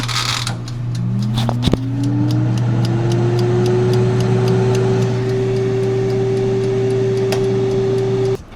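An oven ticks steadily and regularly, like a clock, over a constant mechanical hum and a whine that rises in pitch before levelling off.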